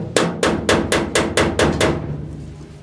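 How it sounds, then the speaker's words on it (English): Seven sharp metallic claw hammer strikes on metal during a Dodge Phoenix car project, in a steady rhythm, close and loud, each ringing briefly before the next blow, then fading into quiet. "I might just hammer that down a little bit. Not that I should be using a claw hammer,"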